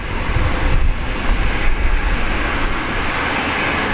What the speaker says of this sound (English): A Taiwanese Princess A350 China Airlines coming in from